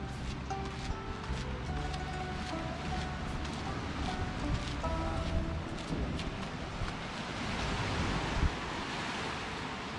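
Ocean waves at high tide on Las Terrenas Beach, where a seawall stands against the washed-away sand; a steady, broad roar of surf with wind rumbling against the microphone, continuous and fairly loud.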